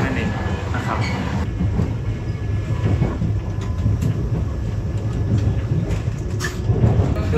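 Indian passenger train rolling steadily on the rails, a continuous dense rumble with faint clacking, heard from inside a day carriage rather than a sleeper, with some background voices.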